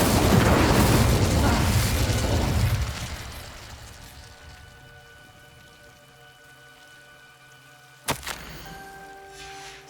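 Incendio fire spell cast in Hogwarts Legacy, a loud fiery whoosh and roar that fills the opening seconds and fades, followed by a sharp burst near the end over a quiet ambient bed.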